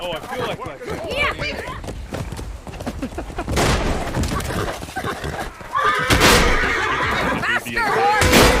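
A horse in the medieval combat game Chivalry lets out loud whinnies among galloping hooves, battle clatter and bursts of combat noise, with people talking throughout.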